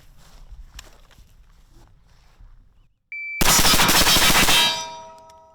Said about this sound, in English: See how fast they can shoot buckshot.